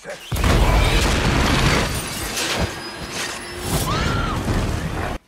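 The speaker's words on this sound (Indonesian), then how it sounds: "sebuah peluru akhirnya mengenai sekotak bahan peledak" A movie explosion as a bullet strikes a box of explosives: a loud, sustained blast roar with crashing debris that fills about five seconds before cutting off abruptly.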